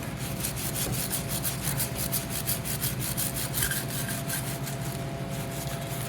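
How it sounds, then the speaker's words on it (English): Wire brush scrubbing a John Deere MT tractor during degreasing, a steady rhythm of close, rough back-and-forth scratching strokes lasting throughout, with no talking. "See what a wire brush does instead."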